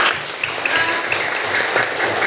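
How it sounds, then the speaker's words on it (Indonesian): Applause in a classroom, a steady patter of many hands clapping together for about two seconds at moderate loudness. "tepuk tangan dulu untuk kita semua"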